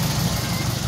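A Mitsubishi Lancer 4G15 engine idles smoothly after an idle-issue repair, giving a steady, even low hum with a soft rhythmic pulse, close by and unbroken for under a second.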